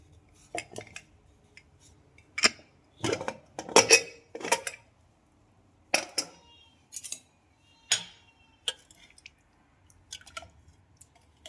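Metal utensils clink and clatter at a pressure cooker holding dal with drumstick pods, scattered sharp taps and knocks separated by quiet pauses, close and clear.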